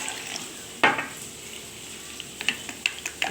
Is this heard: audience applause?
no